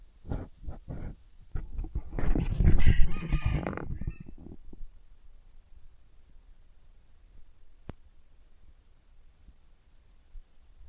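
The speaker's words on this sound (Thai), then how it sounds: "เสียงไก่ป่านะ" A jungle fowl crows loudly and clucks close by for about four seconds, then the scene falls nearly silent apart from one faint click.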